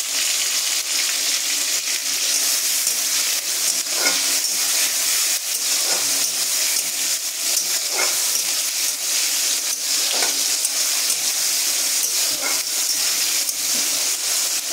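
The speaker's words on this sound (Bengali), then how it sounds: "আমি এই ক্যাপসিকামটা আর টমেটোটা ভালো করে ভাজতে থাকবো।" Chopped capsicum and tomato fry in a pan, giving a steady bright sizzle and hiss with faint stirring scrapes at intervals, close and continuous, with no voices.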